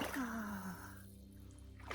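Feet wading through a cold stream, a close burst of swishing, splashing water for about a second that then drops to a quiet trickle, with a brief breathy vocal sound at the start.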